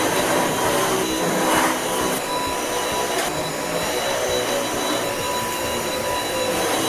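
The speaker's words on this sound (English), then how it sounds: "I'm gonna vacuum real quick." A vacuum cleaner runs continuously at close range, a loud steady broadband whine with a faint high tone, holding level for the whole stretch with no talking.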